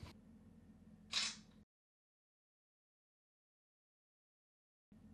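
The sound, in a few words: Samsung Galaxy A10 smartphone camera shutter taking a selfie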